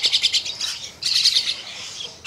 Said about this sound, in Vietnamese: đó, những con chim mới đây